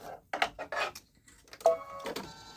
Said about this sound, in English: Why are you still stitching and there's no thread?